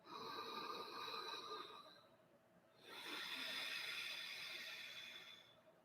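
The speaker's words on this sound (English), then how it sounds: "It sounds very much like a Darth Vader breath." Ujjayi breathing drawn through the nose against a constricted throat, giving a hoarse, rasping Darth Vader–like rush; two long, steady breaths close up with a brief quiet pause between them.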